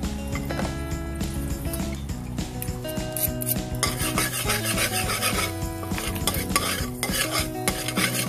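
Pork sisig is stirred and frying with margarine in a pan, giving a steady sizzle under repeated scraping and clinking of a metal utensil against the pan, close and continuous with no talking.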